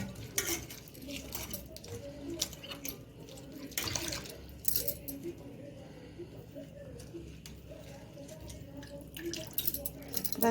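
Onions for potato-onion pakoras being rinsed in a pan of water, with splashing and swishing sounds running under a speaking voice throughout.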